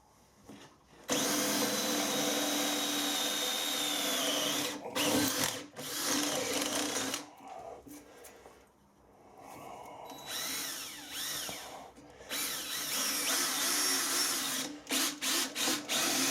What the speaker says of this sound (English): This drill really is an amazing bit of gear.